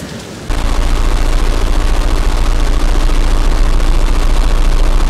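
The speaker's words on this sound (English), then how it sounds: "there is very heavy rain and the wind is so strong, it is blowing houses over" Heavy rain and strong wind as a storm sound effect in a parody weather report, bursting in after a brief quiet moment and holding as a loud, dense, unbroken roar.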